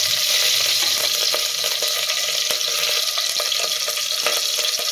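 Garam masala and green chilies sizzle in a hot pan with a loud, constant crackling hiss and scattered stirring clicks, close by and without speech.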